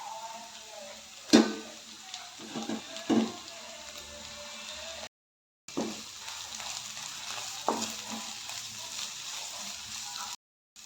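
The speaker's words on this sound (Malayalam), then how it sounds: "ഉള്ളി നന്നായി വാടി വന്നിട്ടുണ്ട് ഇനി അതിലേക്ക് തക്കാളി ചേർക്കാം" Onions and tomato sautéing for a cauliflower masala curry, a continuous sizzle with intermittent spatula scrapes and knocks on the pan, close by, broken by a brief silent gap midway.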